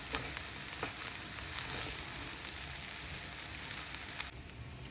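Abacha, an African salad, sizzling and crackling as it is stir-fried in a hot pan, a steady hiss with occasional scraping stirs, fairly quiet and close.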